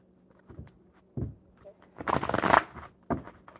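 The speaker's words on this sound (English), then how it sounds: "we're going to shuffle these up one more time" A deck of playing cards is shuffled, giving short rustling flutters and then a longer dense riffle in the middle, with a few soft card taps. The sound is close and moderately loud, with no speech over it.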